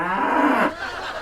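A cow in the Sam & Max video game moos once, a loud, close, drawn-out bellow that drops in pitch and trails off.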